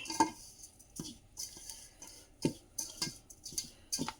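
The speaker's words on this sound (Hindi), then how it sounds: "ये जो साबुत है ना, इनको भी मैं इसी में मिक्स कर दूंगी।" Ground and whole sesame seeds stirred together in a bowl for homemade laddoos, giving soft scraping strokes with a few light spoon clinks, close and quiet, with no voices.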